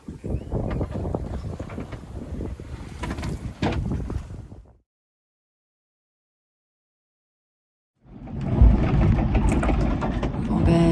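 Wind and breaking waves around a sailboat at sea, a steady loud roar of gusts and water that cuts out to silence midway, then returns just as strong.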